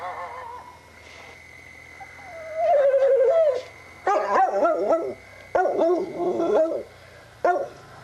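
Small guard dog named Whiskers barking out by a road, a string of short sharp yaps in bursts separated by brief pauses, moderately close and clear.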